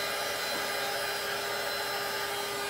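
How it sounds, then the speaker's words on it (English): Heat blower pushing alcohol ink across a suncatcher surface, a loud, steady, close-up hiss of rushing air running continuously and alone. "put the blower away and then put it back on"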